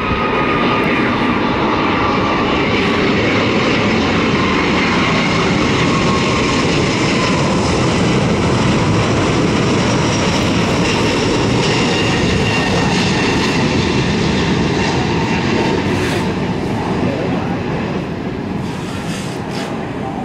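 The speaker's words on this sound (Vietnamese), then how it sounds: "Còn đây là Boeing 777-300 của hãng hàng không Cathay Pacific cũng đang bước vào hạ cánh." A Cathay Pacific Boeing 777-300 comes in to land at Tan Son Nhat airport. Its heavy jet engines make a loud, steady, broadband roar that fills the whole stretch and fades slightly toward the end.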